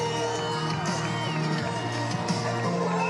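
A huge outdoor crowd of tens of thousands at a Trump rally in Butler, Pennsylvania, a dense, constant roar of babble and cheering with scattered whoops, loud and continuous throughout.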